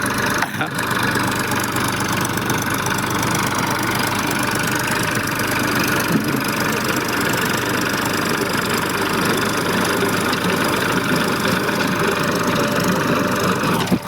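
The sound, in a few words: tractor engine running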